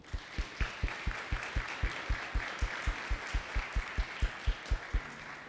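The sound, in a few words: audience applauding at a school safety forum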